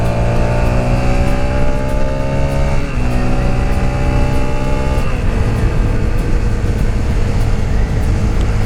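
A 2022 Brixton Crossfire 125 motorcycle on a dry road accelerates steadily toward 70 km/h, its engine loud and close with rising pitch and two gear-change dips, wind and road noise building behind it.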